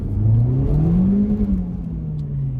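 A 2019 Honda Civic Type R accelerates out of a turn, its engine note climbing steadily in a loud, close rising drone that eases slightly toward the end.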